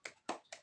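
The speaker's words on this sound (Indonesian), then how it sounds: "Yuk, kita tepuk semangat yuk." Three quick, crisp hand claps in a short rhythmic pattern, close and fairly quiet, from a primary school classroom cheer.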